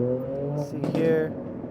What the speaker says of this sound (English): There goes that marble Honda NSX taking off.